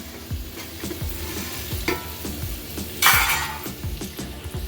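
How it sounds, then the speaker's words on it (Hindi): Onions frying with garam masala in a pot, stirred with a spoon: steady sizzle under rhythmic scraping strokes and occasional metallic clinks, close and moderately loud, with one brief louder hiss partway through. "इसको चला देते हैं प्याज को एक बारी"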